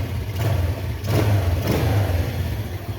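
An old-model Bajaj Discover motorcycle engine is revved with the accelerator, giving two or three short throttle blips that swell over a steady, close idle chug, with no talking.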